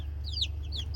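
Baby poultry chicks from Cackle Hatchery peep in a series of short, high chirps over a steady low hum, close and fairly soft.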